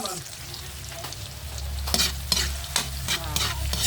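Chicken sotanghon ingredients, including unripe saba banana, sizzle steadily in a hot pan, a continuous frying hiss with brief louder crackles and spatters, close and without talk.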